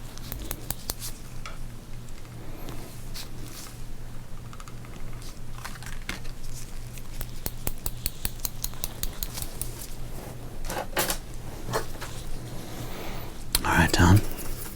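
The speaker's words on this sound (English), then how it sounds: "Do you want to cut up a dirty card?" Scissors snipping up a dirty 1992 Fleer baseball card: rapid crisp clicks and cuts come in irregular bursts, close and soft, over a low steady hum, with a louder rustle near the end.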